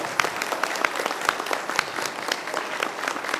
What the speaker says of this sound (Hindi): बजाओ एक बार धमाकेदार ताली